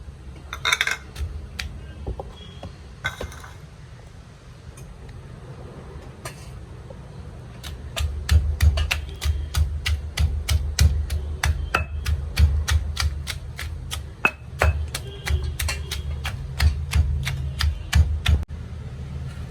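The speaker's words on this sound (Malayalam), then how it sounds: "ഉള്ളി പതിനഞ്ചെണ്ണം എടുത്തിട്ടുണ്ട് കൊച്ചുള്ളി അതാദ്യം ഒന്ന് ചതച്ചെടുക്കാം" Small onions, about fifteen shallots, are pounded and crushed for a tamarind curry, producing a steady run of sharp, closely spaced knocks that grow louder and denser midway, with no talking.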